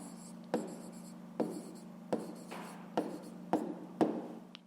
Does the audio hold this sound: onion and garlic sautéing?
no